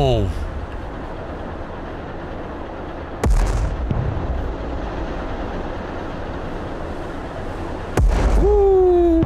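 Mortar rounds launched in the strategy game Broken Arrow, with heavy low booms hitting at about 3 and 8 seconds over a constant rumbling battlefield bed, loud and close, while a voice talks along.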